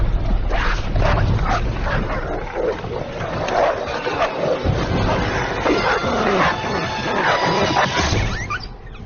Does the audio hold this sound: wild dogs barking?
yes